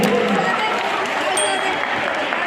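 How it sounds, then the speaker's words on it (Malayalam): An audience at a Malappuram block family gathering showcasing the talents of people with disabilities claps in steady, dense applause that fills the hall throughout, with crowd noise and some talk mixed in. "നല്ലൊരു കയ്യടി."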